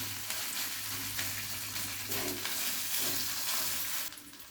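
Onions frying in oil with half a spoon of ground cumin paste in a pan, a steady close sizzle with stirring scrapes running throughout, no talk.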